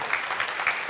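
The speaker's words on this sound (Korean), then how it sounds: "박수로 격려해 주시기 바랍니다." An audience claps at a startup demo day, giving a brief, dense burst of steady applause from a crowd in a hall.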